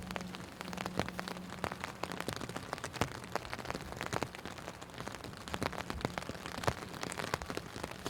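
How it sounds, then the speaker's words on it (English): Rain falling on an open golf course, a dense patter of droplets with scattered sharper drips, steady and moderately quiet throughout, with no voices. "Fun dodging this rain,"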